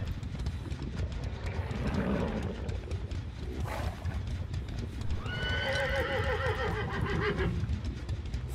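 A horse whinnies in a long, wavering neigh while hooves clip-clop steadily beneath, loud and close over constant background noise in a game setting.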